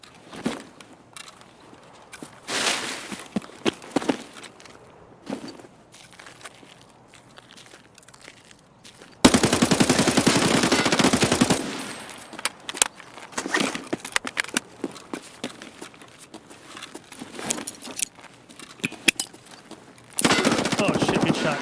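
Gunfire in the online shooter Escape from Tarkov, with rapid bursts of automatic fire crackling in several loud stretches between quieter gaps of scattered shots and movement noise.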